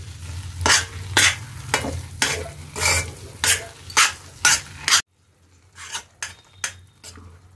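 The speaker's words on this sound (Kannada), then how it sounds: "ಹುರಿಯನ್ನು ಸಿಮ್ಮಲ್ಲಿ ಇಟ್ಕೊಂಡು ಚೆನ್ನಾಗಿ ಇದನ್ನು ಮಿಕ್ಸ್ ಮಾಡ್ಕೊಳ್ಬೇಕು" Mango thokku is stirred in oil in a pan over a low flame, with repeated rhythmic scrapes and knocks of the spoon against the metal riding on a steady sizzle, then a quieter, fainter run of stirring at the end.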